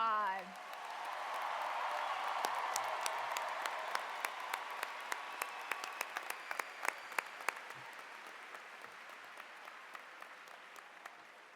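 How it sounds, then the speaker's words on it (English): A large audience at a 2025 high school graduation ceremony applauds the graduating class, a broad sustained wash of clapping that swells then thins into scattered individual claps toward the end. "Can we have a round of applause for the class of 2025?"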